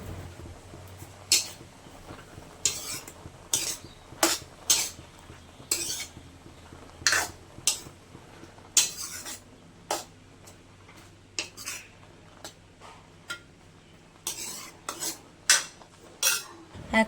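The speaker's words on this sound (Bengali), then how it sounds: "চামচ দিয়ে একটু নাড়াচাড়া করে নেব।" A metal spoon stirs boiled potato and red lentil dal in a pot, giving repeated clinks and scrapes against the pot in an irregular rhythm, close and fairly clear, with a low hum underneath and no talking.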